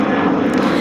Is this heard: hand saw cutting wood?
no